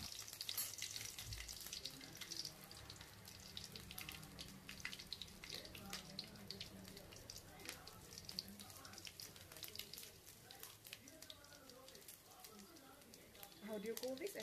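Dried red chilies and spices, with mustard and cumin seeds, fry in a pan with a steady, faint crackling sizzle that runs continuously, partly under a person speaking.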